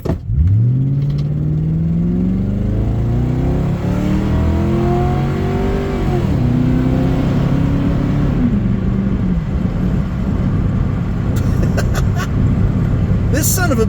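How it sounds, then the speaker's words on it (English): A car launches hard from a standstill, its engine revving steadily higher in one long, loud pull with a shift partway through, close by, with a voice heard over the engine. "Pull a hard launch out of here."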